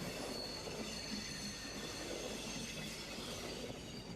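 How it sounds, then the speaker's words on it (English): A steam train runs on the Geislingen Valley line, heard as a faint, steady rolling rumble of wheels on rails with a thin high squeal above it. "the steam trains from the time of our grandfathers are the most attractive form of motive power"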